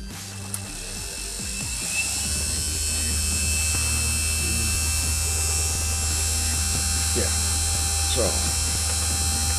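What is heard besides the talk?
small electric motor running at maximum speed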